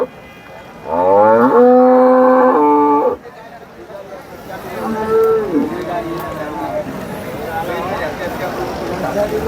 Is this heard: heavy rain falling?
no